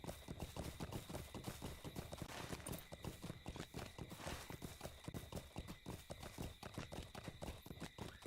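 Horse hooves clip-clop steadily in a fast, even rhythm while riding in Lord of the Rings Online, close and continuous throughout with no talk.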